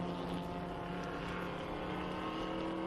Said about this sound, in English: Here comes the Mustang of Doug Obermeyer across the line in sixth